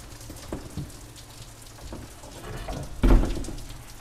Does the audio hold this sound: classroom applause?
no